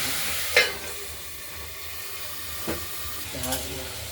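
Flat beans (katla shim) fried in a karahi, stirred after the lid is lifted, giving a steady soft sizzle with a few brief scraping stirs, close and moderately quiet.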